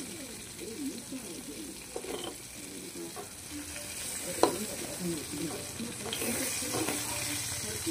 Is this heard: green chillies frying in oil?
yes